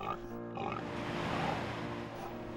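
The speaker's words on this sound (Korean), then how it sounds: "그 중에서도 지리산이 품어 키운 흑돼지입니다." Black pigs raised on a farm on Jirisan mountain grunt and oink in a continuous, busy jumble, fairly close, with a rough, noisy texture throughout.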